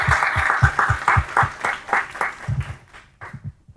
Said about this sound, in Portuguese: Uma salva de palmas para esse momento também.